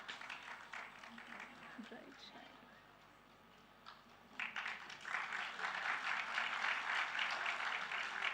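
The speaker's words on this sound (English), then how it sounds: "Let's give a big round of applause as we invite this young star to bright shine" An audience applauding a young student at a school Founders' Day event, faint clapping that swells into loud sustained applause in the second half, with a voice speaking over the early part.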